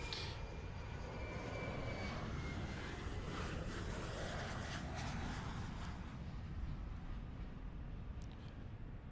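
Boeing 737 MAX taxiing in Microsoft Flight Simulator: a steady, loud jet engine roar with a rushing, airy hiss that thins slightly toward the end, continuous throughout.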